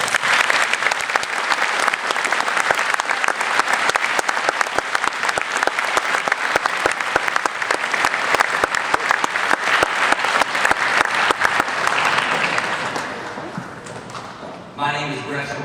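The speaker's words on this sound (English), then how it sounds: "Let's everyone give them a round of applause." Loud, sustained applause from an audience fills an award ceremony at a school, dense and continuous for most of the stretch before tapering off near the end.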